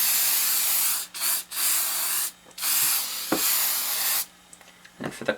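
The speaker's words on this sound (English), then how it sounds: "So just go ahead and spray them." Several bursts of hissing spray from an aerosol lubricant can onto a Rubik's Cube, each lasting about a second, separated by short pauses, close up.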